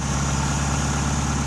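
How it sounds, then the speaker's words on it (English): A 2007 Chevy Aveo engine, just fitted with a new camshaft position sensor, idles at a steady, loud, even rumble with no other sounds. "we'll start the car up and see how she goes"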